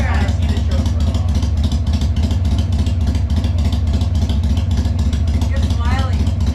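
A motorcycle engine runs steadily and loudly throughout, low rumbling firing with revving, close to the microphone, with faint talk in the background.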